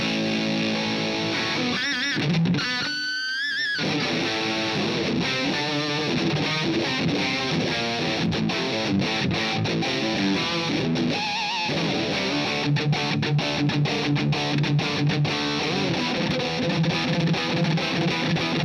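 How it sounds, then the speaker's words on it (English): Electric guitar driven through an Orange Vintage series distortion pedal, made in England, playing a loud, continuous distorted riff with sustained chords and busy note runs, a brief gap near the start. "we bring in some distortion as well for a bit of fun"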